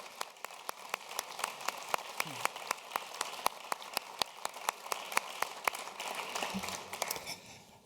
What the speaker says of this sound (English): Let's give a round of applause for our distinguished leader, Bill Powers.